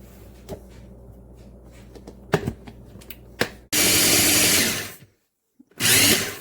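A blender whizzes cottage cheese flatbread batter in two loud, steady whirring bursts with a short silence between, after a stretch of softer clinks and knocks from the kitchen.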